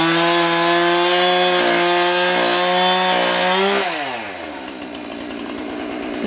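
A chainsaw trims smaller branches off tree limbs, its engine howling loud and steady, bogging briefly as it bites, then dropping in pitch to a rougher idle near the end.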